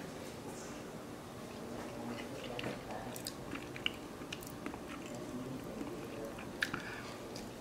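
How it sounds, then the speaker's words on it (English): Someone eats a buttery, soft sweet potato and red onion dish, a classic Spanish recipe. Close, soft chewing and moist squishing carry on steadily, with occasional small crunchy bites and no talk. "we have our sweet potato and red onion dish rested and ready for tasting"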